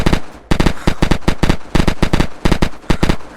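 Short bursts of automatic gunfire from a rifle loaded with Ranger ammo in the video game Unturned, loud and close, firing in rapid clustered volleys of several shots each with brief gaps between.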